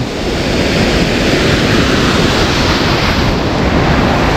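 Seminoblan Falls, a waterfall, sends up a loud, steady, unbroken rushing roar of falling water that stays close and constant throughout, with no voices heard.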